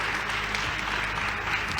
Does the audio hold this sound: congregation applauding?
yes